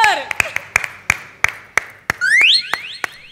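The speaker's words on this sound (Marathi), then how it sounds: "वा, काय भरगच्च टाळ्या आल्यात." Applause and clapping from a studio audience at a Marathi comedy show, bursting out in repeated sharp rounds with a tonal alarm-like effect rising over it, loud and close.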